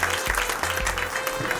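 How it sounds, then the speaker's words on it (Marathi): Audience applause at a retirement ceremony in Jalgaon: a short, steady patter of many hands clapping at moderate distance, filling the whole moment. "मी सर्वांना विनंती करेल की टाळ्या वाजवून आपण त्यांचं या ठिकाणी"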